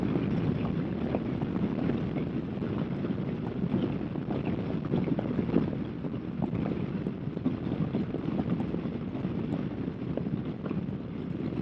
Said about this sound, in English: It's very windy today, probably gusting 50 to 60 kilometers an hour would be my guess.